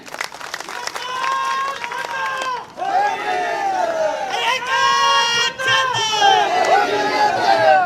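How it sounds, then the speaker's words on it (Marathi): A large crowd at a political rally in Sangli, Maharashtra, breaks into loud applause and cheering, sustained clapping and shouts swelling in waves with brief dips, under and between a speaker's amplified voice. "आदरणीय गोपीचंद पडळकर साहेबांसाठी एकदा जोरदार टाळी"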